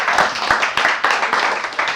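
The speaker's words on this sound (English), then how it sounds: "Round of applause." An audience in a theater applauds, a steady wash of many hands clapping at moderate volume that continues throughout without a break.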